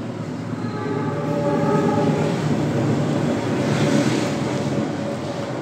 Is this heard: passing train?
yes